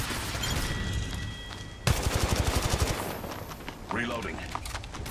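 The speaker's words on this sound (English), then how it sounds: "Getting shot at." Gunfire in the Apex Legends Mobile video game, a rapid close burst of machine-gun shots in the middle, set among game noise and a spoken voice line before and after.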